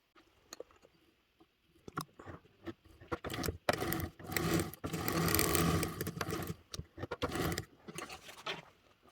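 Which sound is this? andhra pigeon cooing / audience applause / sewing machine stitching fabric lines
sewing machine stitching fabric lines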